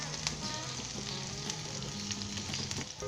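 Potato and okra pieces soften in a pan, a steady medium-loud sizzle with light crackles and occasional stirring taps, with no talking.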